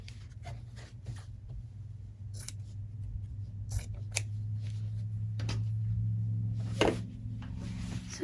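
Scissors snip repeatedly through quilt fabric while trimming a quilt-as-you-go house block, a series of sharp, close cuts spread across the stretch over a low steady hum.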